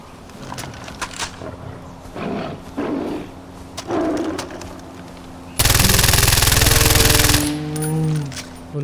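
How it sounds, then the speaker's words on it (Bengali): Machine gun fire in the open-world shooter Far Cry 4 opens with scattered single shots and thuds, then a loud, dense sustained burst tears through for about two seconds before fading into lighter game noise. "বন্দুকটার এমন ভয়ানক ফায়ার রেট না?"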